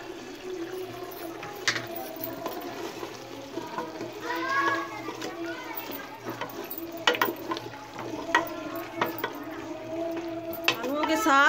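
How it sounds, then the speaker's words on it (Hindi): Potato pieces frying with spiced beef mince in a pan for Pakistani aloo qeema, a low steady sizzle with occasional stirring scrapes and clinks, while someone talks over it. "अब हम आलू डालकर भून लेंगे।"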